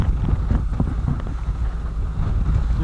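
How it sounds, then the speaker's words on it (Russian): Strong storm wind buffets the microphone beside the Amur river, a steady low rumbling roar with gusty surges and no voices. "Ветрище, штормище."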